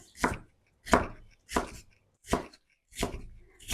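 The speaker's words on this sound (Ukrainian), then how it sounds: "І також нарізаємо його кубиком." Five sharp knife chops on a cutting board, cutting vegetables into cubes, evenly spaced about every two-thirds of a second, close and clear with silence between strokes.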